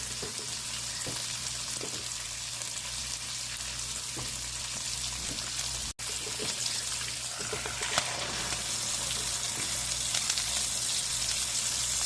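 Strips of bacon fry steadily in a pan under a bacon press, a continuous dense sizzle with crackling pops and a few sharp spits, close and loud, no talking.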